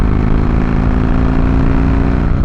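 Harley CVO 110ci V-twin with S&S 551 cams pulling hard under acceleration, a loud, close, steady deep engine drone that rises slightly at the end.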